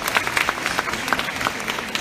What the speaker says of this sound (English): Can we give a round of applause really quick?